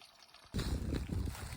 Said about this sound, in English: Here's the pipe spring at Plum Orchard Gap shelter. I may have said peach up there. But flowing strong today.